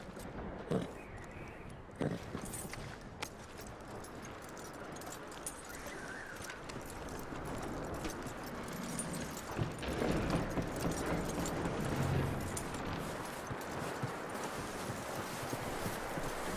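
Horse hooves clip-clopping in Red Dead Redemption 2, a steady moderate rhythm of hoof steps under ambient game sounds, with some faint jingling of tack.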